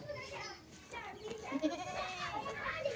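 Barbari goats on a goat farm bleat in short wavering calls, with several cries overlapping while someone speaks in the foreground.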